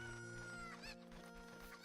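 Cucco chickens from Zelda: Ocarina of Time 3D clucking in quick, overlapping squawks with tonal, rooster-like calls, faint and game-like, with no talking over them.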